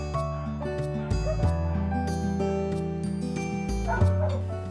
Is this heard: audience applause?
no